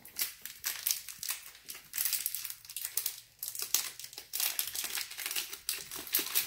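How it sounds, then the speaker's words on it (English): Plastic wrapper of a Shopkins Season 10 blind bag crinkled and crushed by hand, a close, continuous run of sharp crackling bursts with brief pauses throughout. "With this plastic wrapper."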